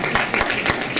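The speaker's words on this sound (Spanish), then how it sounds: "un aplauso también para ustedes" An audience applauds in a brief burst of scattered, uneven claps, fairly close, with faint talk mixed in.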